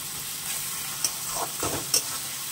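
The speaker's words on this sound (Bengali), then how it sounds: "ভালো করে আমি সাঁতলে নেব, মানে কষিয়ে নেব" Tomato masala frying in a pan, heard as a steady sizzle close by, with two sharp spatula scrapes and taps as it is stirred.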